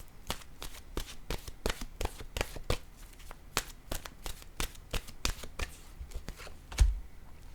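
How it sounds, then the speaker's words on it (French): Tarot cards shuffled and drawn at close range: a quick, regular series of crisp slapping riffles continues for several seconds, ending in a heavier thump. "Attendez une minute, je vais piger une autre carte."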